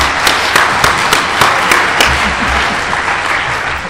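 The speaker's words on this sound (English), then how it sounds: "Give them all a warm round of applause." An audience at a conference breaks into applause, with several sharp, distinct claps standing out near the start before the clapping settles into a steady, fairly loud patter.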